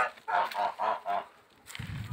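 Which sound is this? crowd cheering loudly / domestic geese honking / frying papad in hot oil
domestic geese honking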